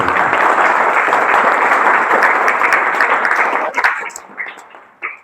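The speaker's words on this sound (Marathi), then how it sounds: "एकदा आयोजकांसाठी जोरात टाळ्या वाजवा।" Loud, sustained applause from an audience at a chess tournament prize ceremony, honoring the organizers, steady for several seconds and then thinning into a few scattered final claps.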